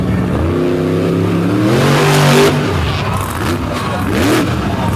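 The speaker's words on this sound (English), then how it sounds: "Tim Jones's machine, a brand new truck, getting real aggressive out there" A brand new monster truck roars through its competition run, engine revving hard and loud with rising and falling pitch, a continuous aggressive growl close by.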